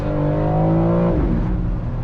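The engine of a 2025 BMW M4 Competition Convertible pulls hard, a loud close roar rising steadily before a quick upshift drops the pitch and acceleration carries on.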